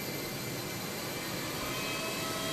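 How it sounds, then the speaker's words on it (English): A steady, loud whooshing fan roar from the brake cooling fans of a Fenix A320 airliner in a flight simulator, holding constant with faint tonal whine and no speech. "So I'm gonna turn on the brake fan."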